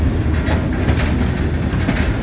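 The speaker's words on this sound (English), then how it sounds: "right now you are riding North America's highest standard gauge adhesion railroad" A train rolls steadily along North America's highest standard-gauge adhesion railroad, loud and close, a continuous rumble with faint rhythmic clatter from the wheels.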